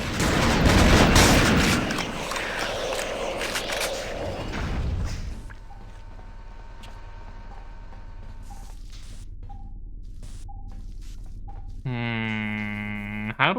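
Video game gunfire in The Thing Remastered: a dense burst of loud shots at the start, then quieter mechanical thuds, tonal game sounds and a rising electronic sweep near the end.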